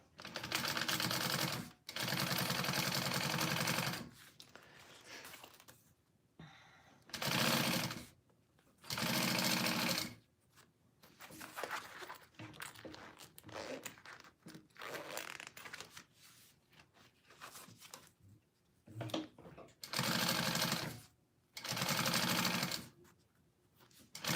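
Home sewing machine stitching a lining onto a mini backpack, running in several loud bursts of rapid mechanical whirring and needle clatter separated by short pauses and quieter handling noises.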